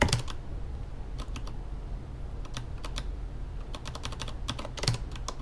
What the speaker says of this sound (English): But no, I just have to backspace this like a moron.